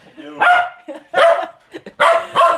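A dog barks loudly and close by in about four sharp, separate bursts, with short pauses between them and no speech over it.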